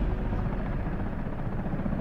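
Helicopter from the video game Comanche flying, a steady low rotor rumble with a faint pulsing throb, constant and fairly loud for the whole moment with no voices.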